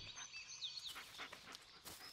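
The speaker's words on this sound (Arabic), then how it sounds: "هذا هو الكلب" A dog pants in the Blair Witch video game, with rapid breathy huffs close by, mixed with faint bird-like chirps and forest ambience.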